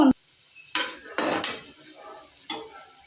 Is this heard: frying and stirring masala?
yes